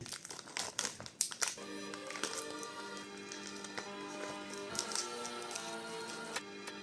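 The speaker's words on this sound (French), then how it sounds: "elle va ouvrir le premier booster, Soleil et Lune" A Pokémon Sun and Moon booster pack from a 2017 box being torn open by hand, with close, crisp crinkling of the foil wrapper in quick bursts at first, then quieter rustling, all under a steady musical backdrop.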